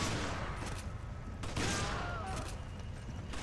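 Rapid bursts of gunfire in the video game Resident Evil 5, several quick volleys over a few seconds at a fairly low level, with no talking.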